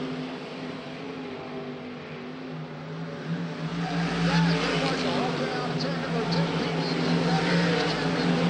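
A sprint race car charges down the back straightaway during a late race push at a CRSA sprint car oval event, its engine roar building steadily louder and nearer, mixed with track noise and an announcer's voice over the loudspeakers.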